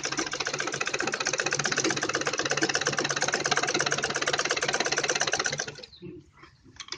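A sewing machine runs in a fast, steady rattling stitch along a blouse neckline for about six seconds, close and loud, then stops abruptly, leaving faint handling noises.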